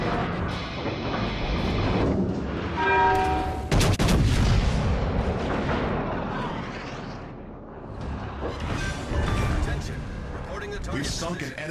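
Heavy naval gunfire from the battleship Kansas in a video game, with booming salvos and a sharp blast near the middle layered under game voice lines and a steady battle din.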